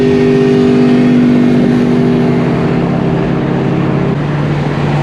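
Ford Mustang SN95 Cobra exhaust while driving on the freeway, a loud, continuous low engine drone with steady harmonic tones, the pitch dropping slightly near the end, with no talking.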